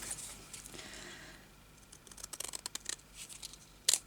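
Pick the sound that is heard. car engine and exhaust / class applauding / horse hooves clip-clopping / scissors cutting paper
scissors cutting paper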